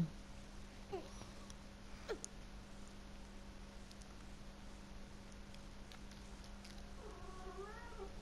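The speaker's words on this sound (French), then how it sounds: "mon chat décide de parler" A cat gives a couple of short, faint chirpy calls, then a longer wavering meow near the end, all over a steady background hum.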